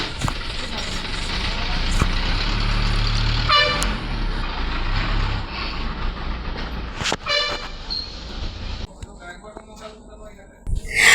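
A bus pulls away with a low, steady engine rumble. Two short horn toots ring out partway through, and voices talk over the fading vehicle noise.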